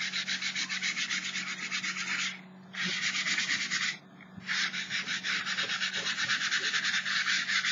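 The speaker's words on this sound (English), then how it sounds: "give it a little sand over." Sandpaper rubbed over a sheet of junk mail to prep it as a painting surface: steady, close scratchy strokes in three long bursts with two brief pauses, a faint low hum underneath.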